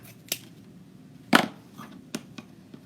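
Scissors snip through a stiff ribbon while a bow is being made, a single crisp cut standing out among a few fainter clicks and rustles close by.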